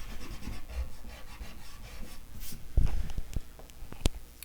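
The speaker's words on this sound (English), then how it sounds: "And I can rub it in and erase some of it away." Color being rubbed into drawing paper and partly erased, soft dry scuffing strokes with a few sharper taps and scrapes near the end, close and fairly quiet, with no talking.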